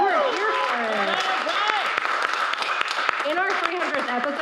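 A live audience applauds at a 300th-episode celebration of a live show, a dense, continuous wash of clapping, loud and close, with voices and cheers mixed throughout.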